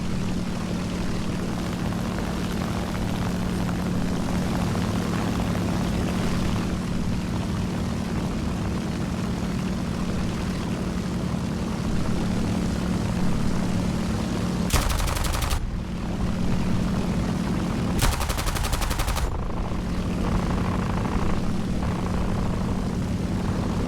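In the War Thunder video game, aircraft engines drone steadily and loudly while two short, dense bursts of gunfire break in partway through.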